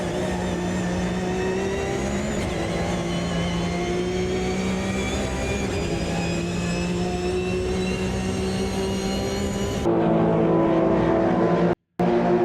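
A race car in the Automobilista 2 sim drones steadily on a bumpy stretch of the Sebring track, its engine note holding then shifting higher near the end before a brief dropout.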